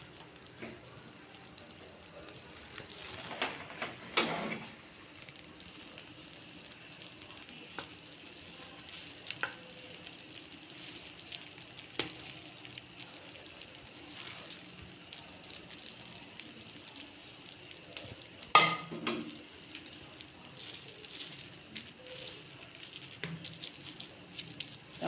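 Hot ghee Mysore pak mixture is poured from the pan onto a ghee-greased plate, giving a faint, steady sizzle and soft scraping with a few louder scrapes and knocks, all quiet and close.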